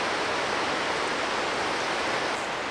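Snoqualmie Falls pours in a constant roaring hiss, a thick, unbroken wall of falling water heard close and loud, with no voices.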